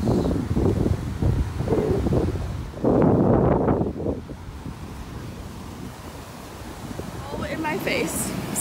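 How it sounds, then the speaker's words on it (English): Strong wind buffets the microphone on a stormy Florida beach, roaring loudly for the first few seconds, then easing into a lower gusting rush with surf in the background and some voices mixed in. "it's so windy"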